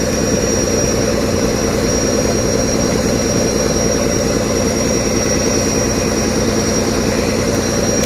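Steady, loud drone of an Indian fishing trawler's engine heading out to deep sea, a continuous low rumble with a constant high whine running throughout, with no voices.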